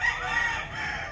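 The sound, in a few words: Hatch breed gamefowl hens at game farm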